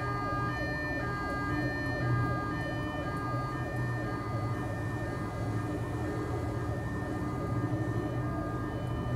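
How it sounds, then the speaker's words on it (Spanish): An ambulance siren in GTA V wails steadily in a repeating two-tone pattern, loud and continuous throughout, with a low engine-like rumble underneath. "Ahora viene aquí la ambulancia Cruz Roja."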